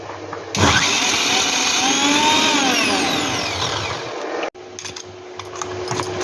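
A mixer grinder runs loud and continuous as it blends tender tere leaf chutney, then cuts off abruptly, leaving a quieter hum and faint clinks.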